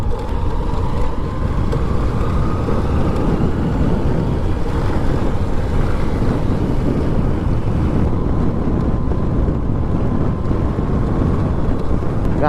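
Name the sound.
strong wind blowing on a motorbike ride in the hills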